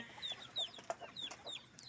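Chickens cluck on a rainy farm, giving a quick series of short, bright calls from several birds at moderate distance, with no talking.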